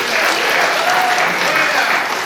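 Steady, dense applause from the audience at a city council work session, heard briefly and evenly without pauses.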